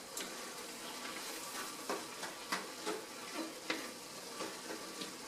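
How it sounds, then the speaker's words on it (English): Ground beef browning in a frying pan for Texas hash, a steady soft sizzle broken by repeated sharp scraping stirs of a utensil against the pan, close and fairly quiet. "So the ground beef is browning nicely"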